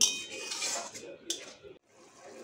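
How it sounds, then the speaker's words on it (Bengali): Shrimp masala mixed in a bowl with turmeric and sweetener: a spoon clinks and scrapes against the dish in quick, light strokes, close and fairly soft, then a brief pause before faint scraping resumes. "ভালো করে নাড়িয়ে নিয়ে সব কিছু মিশিয়ে নিচ্ছি"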